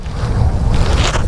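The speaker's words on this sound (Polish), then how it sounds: "Silnik czterosuwowy." A four-stroke motorcycle engine runs at a steady idle, a continuous low rumble mixed with gusty wind noise and no talking.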